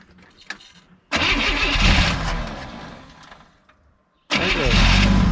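1964 Chevrolet Biscayne engine cranking and catching: a faint click, then a loud rough start that sags and nearly stalls, a short near-silence, and a second burst as the engine fires again, close by with no clear talk.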